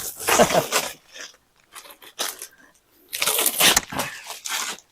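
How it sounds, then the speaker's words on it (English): Loud crinkling and rustling of plastic wrapping being pulled off a motorcycle windscreen in bursts, with short pauses between handfuls, close to the listener. "I'm just unwrapping this Clearview shield, as you can hear."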